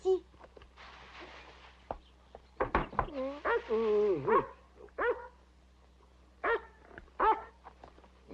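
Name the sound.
dog barking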